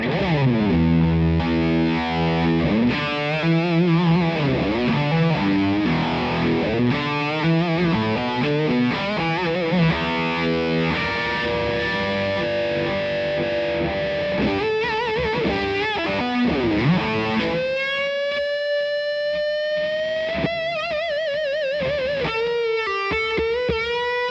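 Heavily distorted electric guitar with all pedals on, drenched in effects, shifting chords and sliding notes ringing with swirling modulation, loud and continuous.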